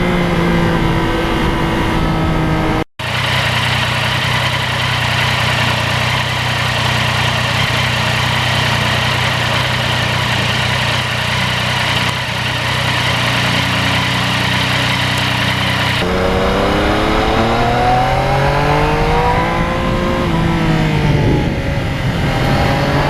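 A 2020 Yamaha MT-09 motorcycle runs continuously, its engine droning loud and close with a steady tone, then climbing and falling in pitch through revs and gear changes near the end.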